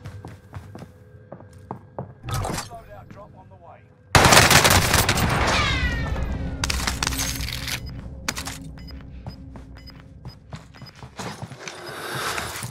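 Owen submachine gun fire in Call of Duty Warzone on Rebirth Island, with sparse shots early, then a sudden loud burst of rapid automatic fire at close range and scattered shots continuing over busy in-game background noise.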